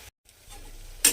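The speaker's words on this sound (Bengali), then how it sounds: "এইবারে বড়িটা আমি খুব ভালোভাবে একটু ভেজে নেব" Bori, small lentil dumplings, frying in hot oil: a soft, brief sizzle that swells into a sharp burst of crackling at the end, heard close with no voices.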